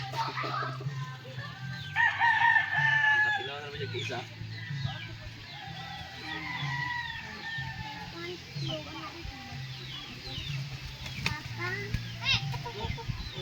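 Chickens crow and cluck behind a house, one rooster crow standing out early with scattered clucks after it, while people chat nearby over steady background noise.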